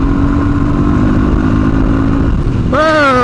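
A Suzuki DRZ400S dual-sport motorcycle roars loudly and steadily up close under rushing wind, then its engine note climbs sharply in a rising rev as it picks up speed near the end.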